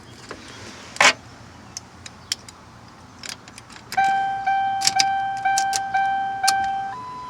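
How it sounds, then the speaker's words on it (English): A key inserted into the ignition of a 2005-or-later Ford Panther-platform car, with a jangle of metal keys and clicks, then steady electronic chime tones pulsing repeatedly as it turns to on. "So I'm gonna put the key in and turn it to on."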